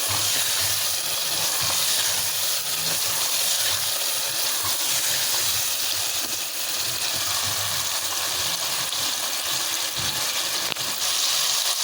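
Chicken being fried (bhuna) in a pan, with a dense, continuous, fairly loud hiss and sizzle that holds steady throughout and has no talking over it.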